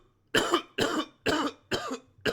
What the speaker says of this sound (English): I apologize for that annoying cough.